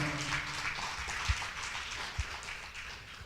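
Church congregation applauding during a service, a broad wash of many hands clapping at a distance, fairly faint with a couple of louder thumps mixed in.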